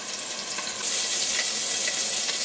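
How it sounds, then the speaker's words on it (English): Scallops sear in a hot pan with a steady, loud sizzle and spatter that swells partway through and stays up, with no talking. "since these scallops are supposed to be seared and not boiled"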